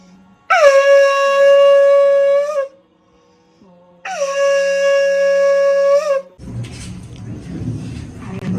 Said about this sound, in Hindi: अब मैं बजाने जाऊंगी शंख।